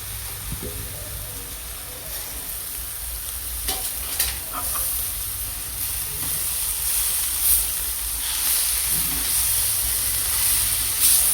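Red ponnanganni greens tumble into sizzling masala in a pan, bringing a steady, bright frying hiss that builds slightly, with soft stirring scrapes and a few light knocks throughout.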